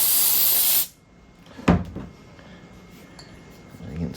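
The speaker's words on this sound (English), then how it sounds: "Spray some carb cleaner in here. Make sure that's nice and clean. Let out some shop air." A loud hiss of carb cleaner spray or compressed shop air hits a mower carburetor for just under a second, then cuts off. A few quiet clanks and small handling sounds follow.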